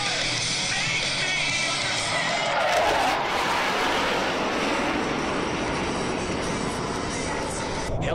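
A Blue Angels jet roars loud and steady through an afterburner turn at the 2010 Idaho Falls Air Show, a dense continuous engine rush that swells slightly midway.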